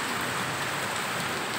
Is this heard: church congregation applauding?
no